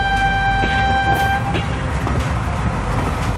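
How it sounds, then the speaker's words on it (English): A train passes with steady rumbling rail noise, and a short two-tone horn toot sounds in the first half before fading into the continuous roar. No talk. "Train."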